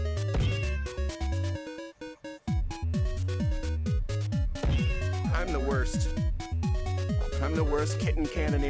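A cartoon kitten meows in the Kitten Cannon VR game, repeated plaintive mewing calls riding over loud, busy game music, close and prominent throughout.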